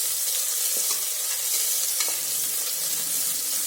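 Chopped onions sautéing in a pan for Tamil-style mint rice give a steady, close, loud sizzle with occasional stirring scrapes and no talking.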